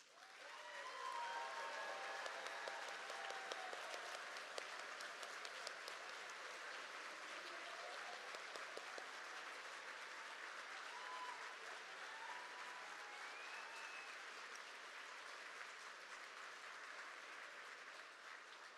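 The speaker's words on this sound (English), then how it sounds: "Let's give them all a round of applause." Sustained applause from an awards banquet audience, a steady dense wash of clapping lasting nearly twenty seconds, heard from a distance and fairly faint.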